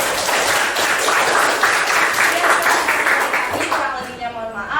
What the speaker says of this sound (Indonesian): kita beri aplaus untuk kelompok